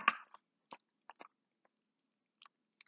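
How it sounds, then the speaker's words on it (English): Someone chews a chocolate snack close up, with a handful of soft, separate crunchy bites and squishes spaced by quiet pauses. "Oh boy, I chew like a cow."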